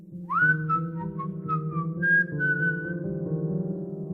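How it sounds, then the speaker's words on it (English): A woman whistles a loose, tuneless string of notes, wandering up and down with no set melody, heard clearly and alone over a steady low background hum. "she found herself whistling"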